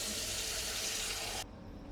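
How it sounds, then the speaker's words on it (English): A tap runs steadily into a round water basin, a broad, even hiss of filling water that cuts off abruptly near the end, leaving only quiet room tone. "A basin is a big round container for holding water. So I'm filling it up."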